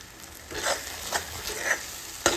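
Sweet corn chivda fries in oil on a medium gas flame as a spoon stirs it, giving a low steady sizzle broken by a few soft scraping strokes, close up and fairly quiet.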